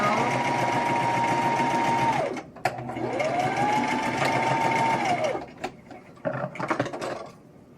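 A sewing machine stitches across the boxed corners of a fabric bag, running in two long steady bursts with a brief stop between, then a few short clattering stitches and handling noises at the end.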